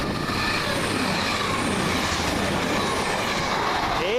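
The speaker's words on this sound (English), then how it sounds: "Next up is the slightly delayed 1V53 cross-country service from Manchester Piccadilly to Bristol Temple Meads." A CrossCountry Voyager train on the delayed Manchester Piccadilly to Bristol Temple Meads service rushes through Coseley station, a loud steady roar with rattling wheels and a brief rising squeal at the end.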